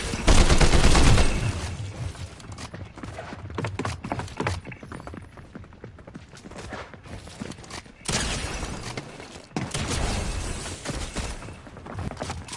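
Rapid gunfire bursts from a Fortnite match played on a PS5 at 120 fps, loud and dense, with shots rattling almost continuously and short pauses between volleys.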